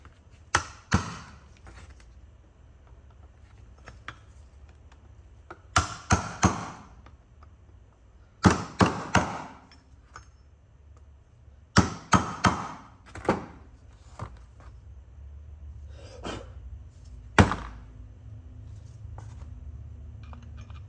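Sharp metal tapping from a wood chisel staking a part on a 4L60E automatic transmission, heard as several clusters of two to four close, loud strikes spread across the stretch with quiet gaps between.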